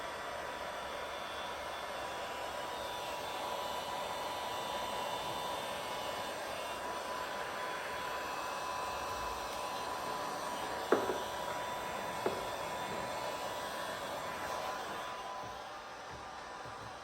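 A heat gun blows hot air steadily onto chrome window trim material on a 2021 Jeep Grand Cherokee L, producing a constant, even broadband whoosh with a couple of faint clicks partway through.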